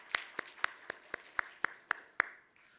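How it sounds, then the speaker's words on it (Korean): About nine sharp, evenly spaced hand claps at a midweek church service welcoming an elder, crisp and fairly close, with a quiet room between strikes. "우리 한 박수로 하겠습니다."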